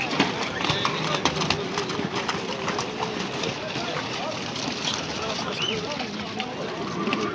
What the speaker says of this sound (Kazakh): аттарды сынап атышат.